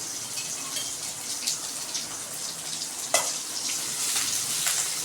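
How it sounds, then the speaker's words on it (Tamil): Sliced onions sautéing in a pan for a Tamil sheela fish curry give a steady, close sizzle with light crackle and a few sharper pops, no talking. "வெங்காயத்தை நல்லா வதக்கிக்கோங்க."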